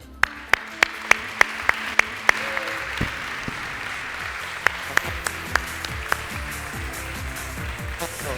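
Studio audience applause on an Azerbaijani TV game show, steady clapping with sharp individual claps standing out, with a voice speaking over the first few seconds.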